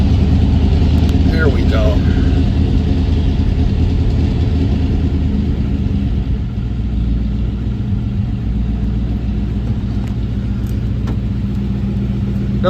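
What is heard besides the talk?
1952 Ford F-1 pickup engine starting and idling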